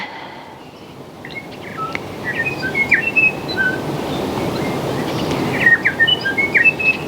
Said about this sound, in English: I love practicing yoga outside and hearing all the beautiful sounds of the birds.